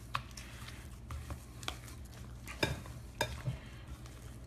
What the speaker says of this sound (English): So just mix all of this together